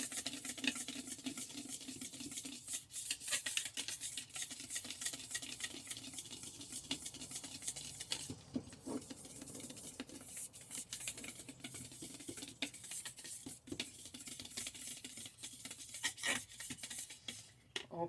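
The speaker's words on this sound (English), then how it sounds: "now you're going to want to whisk this together" Apple fritter batter ingredients being whisked together in a bowl for homemade Southern apple fritters, a steady close scraping and stirring patter that runs continuously, with occasional sharper clicks of the whisk against the bowl.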